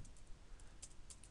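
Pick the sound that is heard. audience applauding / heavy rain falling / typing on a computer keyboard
typing on a computer keyboard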